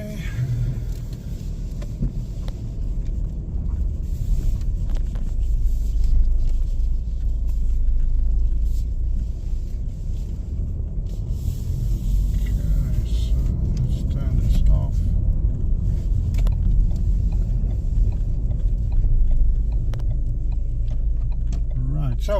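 Interior of a 2018 Ford Focus on the move: a steady low engine and road rumble holds throughout, with faint rattles and small cabin noises over the drone.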